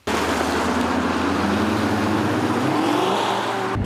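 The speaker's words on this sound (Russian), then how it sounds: "Maserati разгоняется очень плавно, благодаря самоблокирующемуся дифференциалу." A Maserati Gran Turismo accelerates smoothly from a standing start, its engine note climbing steadily and loud and close throughout, with no speech over it.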